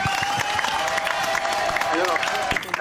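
A studio audience on a French prime-time TV show applauds Michel, a dense, even wash of clapping and crowd noise, loud and continuous, with voices speaking over it before it cuts off near the end.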